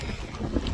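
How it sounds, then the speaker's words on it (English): Gusts of wind around 40 mph buffet a microphone outdoors on a mountain trail in the Smokies, a steady low roar with rising bursts, loud and close, with no talking. "there are like 40 mile per hour gusts of winds going across this thing"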